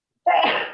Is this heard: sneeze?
yes